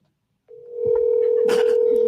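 Phone call ringing out over speakerphone: a steady continuous ring tone begins after a brief silence, loud and close, with faint background voices and movement underneath.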